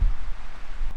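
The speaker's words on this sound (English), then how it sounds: "I don't know if anybody can hear me with this wind" Wind buffets a microphone outdoors on open valley land in northern Nebraska, a steady low rumbling roar with gusty surges for the whole second and no voice over it.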